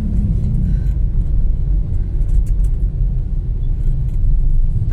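A truck rolls along a road at night near a bypass in Bandung, a steady, loud low rumble of engine and tyres that holds for the whole stretch, with no voices.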